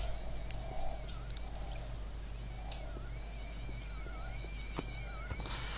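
Cats meowing inside the violent shooter game Postal 2, several wavering cries scattered through the scene over a steady low game drone and background noise, with no talk.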